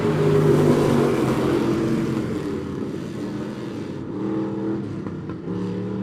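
Race cars lapping Monett Motor Speedway during a feature race, a loud steady engine roar with shifting pitch as cars pass, a dip and then a rise as another pack comes through.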